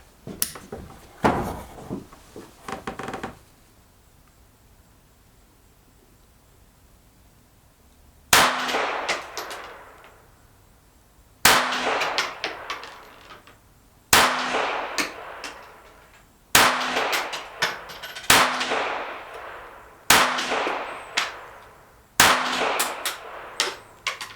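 A KelTec CP33 .22LR quad-stack competition pistol fires at targets 10 yards away: a quick early cluster, a pause, then single loud sharp cracks spaced a few seconds apart, each with a ringing decay.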